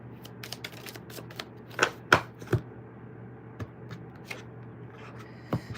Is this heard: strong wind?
no